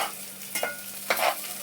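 Fansa bhaji with turmeric, salt, cumin and mustard seeds being mixed in a pan, a few soft scraping stirs over a faint quiet sizzle, close by and without speech.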